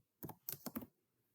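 Short burst of computer keyboard typing entering a network command at a PC command prompt: about five quick, close keystroke clicks in an uneven run, then quiet.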